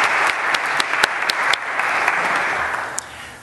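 Audience applause welcoming speakers at a church chapel service, dense sustained clapping from a crowd nearby with a few sharp louder claps, tapering off at the end.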